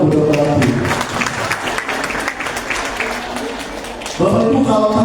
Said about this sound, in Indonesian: Tepuk tangan untuk Dokter Ong.